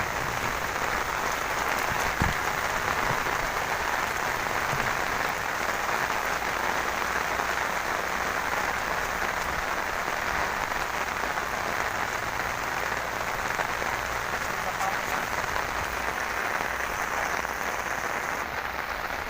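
Steady, dense hiss of rain falling continuously on surfaces, filling the whole stretch at an even level with no voices.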